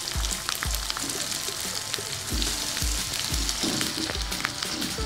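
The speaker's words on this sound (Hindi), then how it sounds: "और इसको 2 मिनट तक भूनेंगे" Tomatoes frying in chicken karahi over a village cooking fire, a bright continuous sizzle punctuated by about five heavy rhythmic thuds of a ladle turning the contents of the wok.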